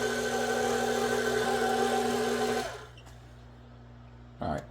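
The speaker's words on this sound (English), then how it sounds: "Mix and kind of combine." An electric mixer whirs loudly and steadily through pound cake batter with buttermilk, then cuts off, leaving a quiet hum and a brief clunk.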